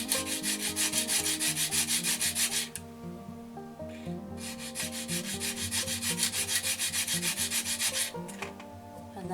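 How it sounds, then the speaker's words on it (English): A soft pastel stick is sanded to a chisel edge, producing rapid rhythmic scratchy rubbing strokes up close, with one brief pause partway through, alone and fairly quiet. "sand each side rather, and it gives you a nice chisel shape"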